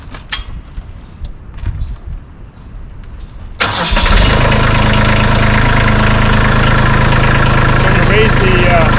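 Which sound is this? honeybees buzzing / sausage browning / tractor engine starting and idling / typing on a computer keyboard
tractor engine starting and idling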